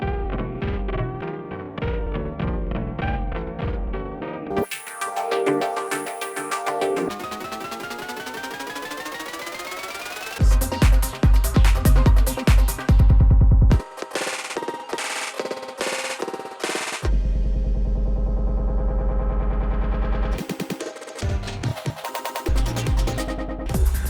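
Heavily effected electronic audio from Octatrack sampler outputs processed back through performance effects, with stuttering, glitchy bursts, pitch sweeps and abrupt cuts, loud and dense throughout.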